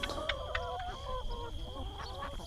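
Nearly full-grown geese honk and call in a farmyard alongside hens, with several overlapping close, nasal honks in quick succession over a constant background hum.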